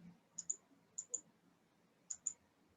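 Mouse clicks in 3D scene-editing software, three quick double-click pairs spaced about a second apart, crisp and close against a quiet background.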